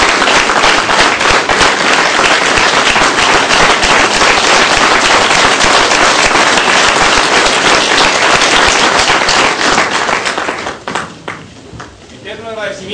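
Loud, sustained applause fills the hall at Miraflores Palace during an honour ceremony for a visiting leader, dense rapid clapping running about ten seconds before thinning out as a voice begins speaking.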